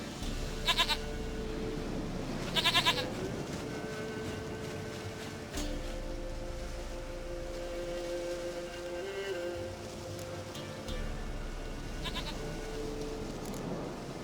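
A goat in Witcher 3 bleats twice in quick bursts near the start, and fainter calls follow over a steady low hum of game background sound.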